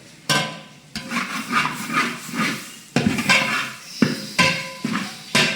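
Wedding-style beetroot poriyal stir-fried in a pan, with a spoon or spatula stirring and tapping against the metal in a run of sharp, close clacks and scrapes, loud and uneven, with no talking.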